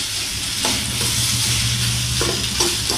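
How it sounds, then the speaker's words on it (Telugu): Pasta being fried in masala in a pan, a loud close hiss of sizzling oil with scraping stirs, a few louder bursts as the pan is worked, no talking. "పాస్తా వేయించుకుందాం."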